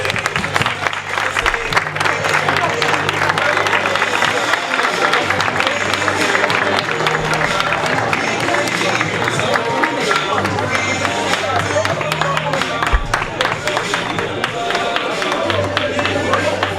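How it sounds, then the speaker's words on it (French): A conference audience applauds to welcome a speaker, a dense, sustained round of clapping from a large crowd in a hall, steady and loud throughout with some cheering and voices mixed in. "Merci de faire un tonnerre d'applaudissements"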